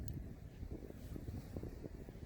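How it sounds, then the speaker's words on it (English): Gusting wind buffets a small vertical-axis wind turbine under generator test outdoors, a steady low roar with broadband rumble and swelling pulses across the span, continuous and close to the microphone. "Every time I pause, we get a good gust here."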